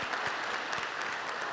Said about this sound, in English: one more round of applause for all of the folks who have received awards